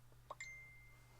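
A Facebook Messenger alert sounds on a phone as a quick pair of bright chiming pings, the second tone ringing out and fading over a low steady hum, faint and alone.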